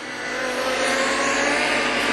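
Race cars roar at full throttle around a speedway oval in the Luke Keldoulis Classic final at Gympie, a loud, steady engine drone that swells slightly as they pass.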